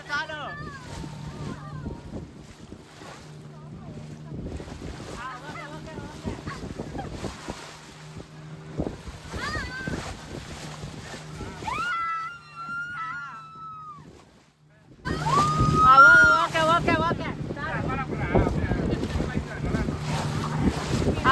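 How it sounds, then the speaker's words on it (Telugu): Wind buffets the microphone while waves churn and slap against a moving boat at Puducherry; voices call out over the rushing noise, which grows louder near the end. "ఇక్కడ నీటి అలలు ఒక్కసారిగా బోట్ అంచులను తాకుతూ పైకి ఎగిసి పడుతున్నాయి"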